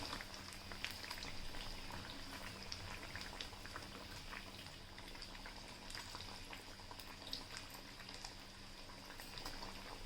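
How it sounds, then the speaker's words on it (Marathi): Sabudana vadas deep-frying in hot oil, a faint continuous bubbling sizzle with light crackles, steady throughout and no voices. "आपल्याला खरपूस लाल रंग येईपर्यंत वडे फ्राय करून घ्यायचे आहेत"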